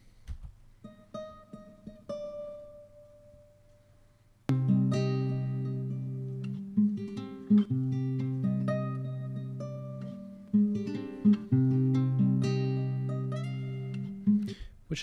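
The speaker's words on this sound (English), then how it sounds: "After that, I recorded a guitar lead on top of it," A lead guitar line built in FL Studio with effects, a simple few-note melody with a little variation toward the end, plays alone at first, then over fuller backing from about four and a half seconds on.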